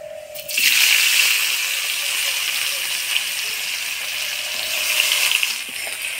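Chopped onions frying in a pan with whole cumin, bay leaf, cinnamon, cardamom and cloves: a steady, close hiss and sizzle that flares as they hit the hot oil and then holds evenly, with no talk.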